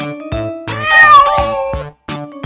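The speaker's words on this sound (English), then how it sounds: "Cat," A domestic cat meows once, a clear drawn-out cry standing alone over a steady background music bed.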